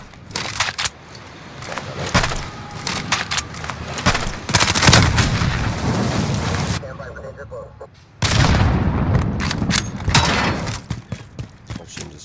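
The CR56 AMAX rifle in Call of Duty Warzone empties a full magazine in sustained rapid automatic bursts, loud and close, with a short pause midway before firing resumes, and a voice talks alongside.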